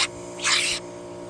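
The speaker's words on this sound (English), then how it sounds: "we're gonna go ahead and run this air compressor and see how the compressed air does" Compressed air from an air compressor hisses in a short, loud blast into a car's clogged sunroof drain, with a fainter hiss before and after the main burst and steady low hum underneath.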